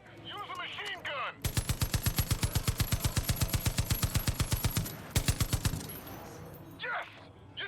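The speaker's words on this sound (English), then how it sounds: "Use a machine gun." Sustained automatic machine gun fire in the Far Cry 5 video game, a long, fast, evenly spaced burst of loud shots, a brief pause, then a shorter burst, with faint voice sounds before and after.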